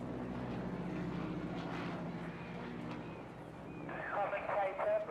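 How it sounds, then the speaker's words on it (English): Aircraft fly low through an airshow display, diving, pitching up and rolling, heard as a steady propeller engine drone that builds toward the end, with a crowd and background chatter around it. "as each of the pilots fly through the area, diving down as if they'd be attacking, pitching up, and rolling the aircraft."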